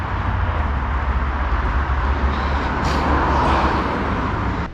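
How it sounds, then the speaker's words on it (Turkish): Dense city traffic in Ankara forms a loud, constant roar and rumble of road vehicles with a steady low-end drone and no clear pauses. "Şehrin gürültüsü pek alışık gelmedi şimdi ama"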